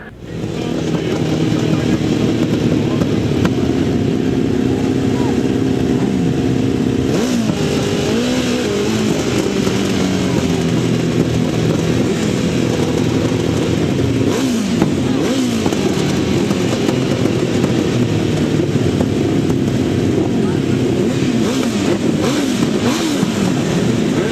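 Grasstrack racing motorcycles accelerate hard up the straight, a dense, loud, sustained engine roar from several machines blending together, their pitch rising and shifting as they pull away, with no voices over it.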